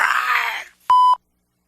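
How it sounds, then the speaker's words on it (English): A single steady electronic beep, about a quarter second long, follows a brief stretch of noisy, breathy sound and then silence. "leave a message after the beep"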